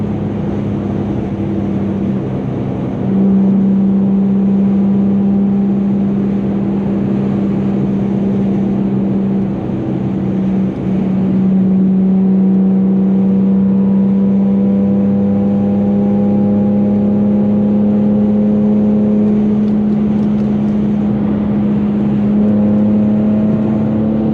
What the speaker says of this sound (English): Nice little fourth gear pull.